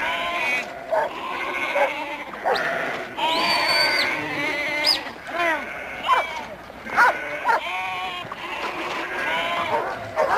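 Many sheep bleat close by in a tight pen, overlapping calls rising and falling with some shuffling and splashing, while a voice talks over them.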